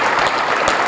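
A brief, loud burst of crowd applause at a high school varsity jacket night, dense clapping from many hands filling under a second.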